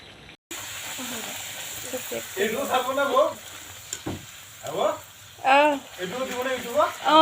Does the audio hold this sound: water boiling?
yes